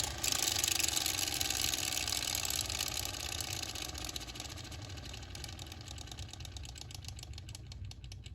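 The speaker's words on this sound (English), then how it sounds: "this one has a more high-tech, quieter sound" A Kenner Hasbro ripcord flywheel toy spins down with a smooth, quieter high-tech whir, steady and fairly loud at first, then gradually easing and fading over several seconds with a faint rattly texture.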